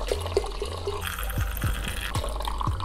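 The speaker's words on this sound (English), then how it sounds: "Add some vegetable broth, 1/2 liter." Vegetable broth poured from a one-litre bottle into a soup pot, a quiet, close glugging pour with small splashes and drips, no voices.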